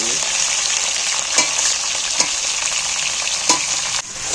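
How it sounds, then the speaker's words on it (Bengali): Chicken pieces stir-fried in a little oil left from frying onions with cardamom and whole dried chillies give a loud, steady hiss. Sharp clicks of stirring cut through the sizzle several times, and no one speaks. "এটা আমি একটু তেলে নেড়ে চেড়ে এবার আমি মাংসগুলো তুলে দিচ্ছি।"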